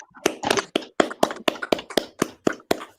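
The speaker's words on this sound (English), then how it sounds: "So, another round of applause for Elner, everybody." A comedy show audience claps slowly, evenly spaced claps ringing out one after another, about three per second, with no voices over them.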